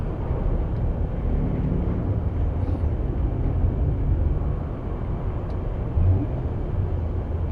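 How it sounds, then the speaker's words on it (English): Large hydrogen thrusters in the video game Space Engineers, a loud continuous broadband roar that stays steady and dense throughout, with no talking over it. "Those are large hydrogen thrusters."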